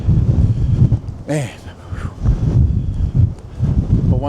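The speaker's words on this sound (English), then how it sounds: "It's really windy today." Strong wind buffeting the microphone on the open deck of Battleship New Jersey, gusting in rough rumbling surges while someone speaks over it.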